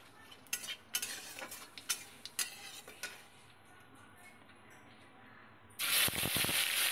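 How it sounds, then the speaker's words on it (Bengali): Cumin seeds and bay leaf hit hot oil in a wok, giving sharp spattering crackles and clinks for a few seconds, then a quieter stretch before a loud, bright sizzle surges up near the end. "এবার কড়াইতে জিরে তেজপাতা ফোড়ন দিলাম।"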